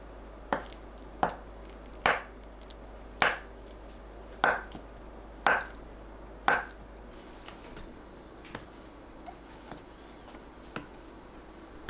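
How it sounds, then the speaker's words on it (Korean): Knife chopping through a block of tofu on a cutting board, seven crisp close cuts at a steady pace followed by a few fainter taps, with no talking. "두부는 키친타올로 물기 닦고 1cm 두께로 썰어주세요."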